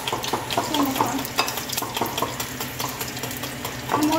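Battered fish pieces are stirred in a frying pan of hot oil, with a busy, continuous sizzle and scraping utensil clicks, heard up close.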